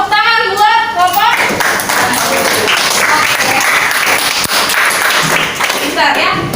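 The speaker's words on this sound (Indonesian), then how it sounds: "tepuk tangan buat kelompok." A classroom of students applauds a group, with sustained clapping filling the room under a teacher's voice at the start and end.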